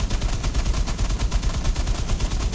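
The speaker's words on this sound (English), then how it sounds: "the Bofors are automatically firing at enemy ships and aircraft" Bofors guns aboard a warship in the naval video game War Thunder fire automatically at enemy ships and aircraft, a loud, rapid, steady stream of thumping shots with no voices.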